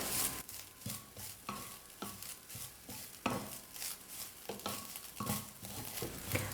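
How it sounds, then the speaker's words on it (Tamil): Grated coconut is dry-roasted and stirred in a pan, a gritty scraping sizzle with repeated strokes roughly every second, close and fairly soft. "ஓரளவுக்கு நான் ட்ரை ஆகிற அளவுக்கு தேங்காவை வறுத்துக்கிட்டேன்"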